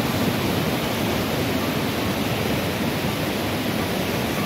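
Water from a waterfall at Keonjhar crashing down, a loud, dense, unbroken roar of rushing water filling the whole span.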